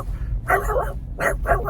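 Small lap dog barking, several sharp yips and barks in two quick bursts, close and fairly loud over a low background rumble, with no talking.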